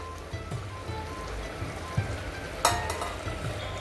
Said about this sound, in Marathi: याला मस्त छान फ्राय करून घ्यायचं